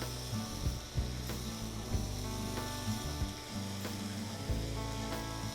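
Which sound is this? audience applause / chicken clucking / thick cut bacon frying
thick cut bacon frying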